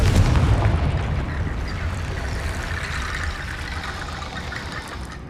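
A Confringo spell explosion in the Hogwarts Legacy video game, a single booming blast at the start that trails off into a long, fading rumble with a crackling, hissy tail, and no voices.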